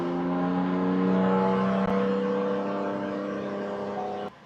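A turbocharged Gen 3 Ford F-150 Raptor engine holds steady high revs in fifth gear on a dyno, a loud sustained whirring drone that cuts off abruptly near the end.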